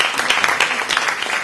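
An audience at a live magic show applauds loudly, a dense continuous clatter of many hands clapping close by.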